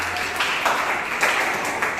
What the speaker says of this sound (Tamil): கைத்தட்ட அவனுக்கு.